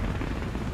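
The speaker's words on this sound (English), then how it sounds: "we got a missile in the air" A missile launches in the Call of Duty Ghosts video game, producing a dense, roaring, rumbling blast that fills the whole brief moment at steady loudness.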